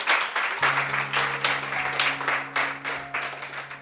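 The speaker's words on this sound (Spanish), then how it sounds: "Vamos a darles un fuerte aplauso al Señor Jesús." A church congregation claps for Jesus during a sermon on the power of the cross, a dense rolling wave of applause with a sustained organ or keyboard tone humming underneath.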